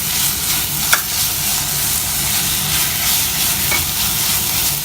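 Tomato, curry leaves and shallots frying in a pan for a prawn curry, giving a loud, continuous close-up sizzle with a couple of brief clicks.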